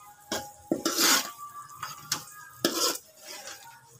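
Spoon scraping and clanking against a pan while mutton karahi is mixed with kasuri methi, several close, sharp metallic strokes in an uneven rhythm with no talking.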